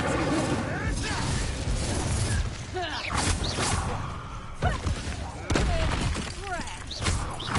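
Fire spell cast in the video game Hogwarts Legacy, set amid busy combat audio with whooshing bursts, crashes and clattering effects, plus a voice speaking.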